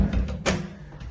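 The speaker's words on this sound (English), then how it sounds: "And then I'll just close this door" An apartment building's self-locking door swings shut with a single short thud and latch, close by, followed by quiet room tone.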